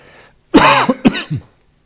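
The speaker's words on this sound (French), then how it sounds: "je tousse parce que c'est la fin de la retraite" A man coughs twice in close succession indoors, loud and close, the second cough followed by a brief throat-clearing rasp, with silence before and after.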